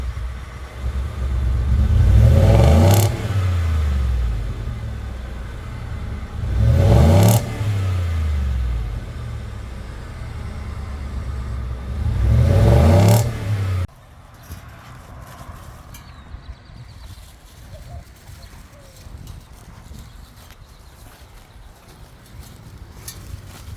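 A stock-exhaust 5.0 V8 in a 2018 Ford F-150 single cab pickup revs three times, each rev surging up and falling back, before dropping to a quiet, low idle.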